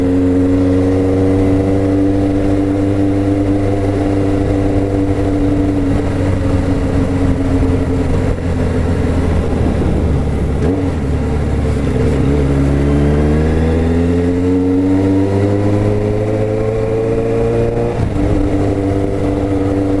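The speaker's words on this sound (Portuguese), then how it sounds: "O barulho dessa moto ecoa." A Suzuki GSX750F motorcycle engine runs loud and steady up close at high revs, its pitch dipping and climbing as the throttle is worked, echoing off walls with a deep droning tone.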